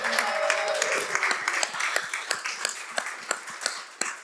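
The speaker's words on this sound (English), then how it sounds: "I just want to give a big round of applause to Derry" An audience at an indoor panel event in Milan claps in a round of applause, a steady patter of many hands that thins into scattered claps toward the end, heard alone without talk.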